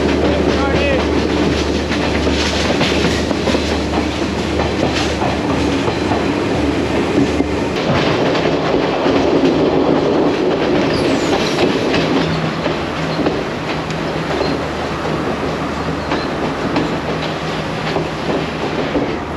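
A Sri Lankan passenger train on the Colombo to Kandy line runs steadily throughout, a loud continuous rumble of rolling carriages with faint wheel clatter. Some indistinct voices are heard in the background.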